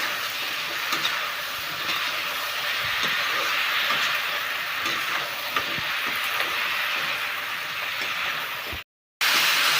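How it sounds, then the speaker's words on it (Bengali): Okra frying in a pan for a fish curry with mustard paste, after potatoes were fried, gives a steady broad sizzling hiss that runs evenly and loudly until a short silent gap near the end. "ভেন্ডি ভালো করে একটু ভেজে নেব।"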